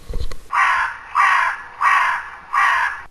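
A raven caws four times at an even, steady pace, each call a harsh, rasping croak. The calls are close and clear, preceded by a brief low rumble.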